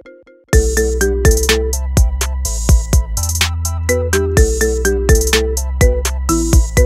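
An upbeat trap-style marimba remix plays as a phone ringtone: bright mallet notes over deep bass hits in a steady, loud, repeating rhythm, with no voices.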